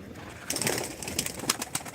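Pigeons at a live pigeon auction give soft, close coos in short bursts over a low murmuring background.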